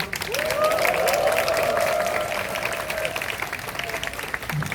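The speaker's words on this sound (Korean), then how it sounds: "끝으로 이 자리에 와서 우리 서로에게 다시 한번 큰 박수 부탁드립니다" Crowd applause at an outdoor candlelight rally of Seoul National University students, a steady wash of many hands clapping with some cheering, sustained and fairly loud throughout.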